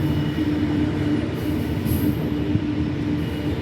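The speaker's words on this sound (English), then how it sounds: "It is a Pacific National loaded coal train" A loaded Pacific National coal train passing close by, a loud continuous rumble of wagons and wheels on the rails with a faint squeal of metal partway through.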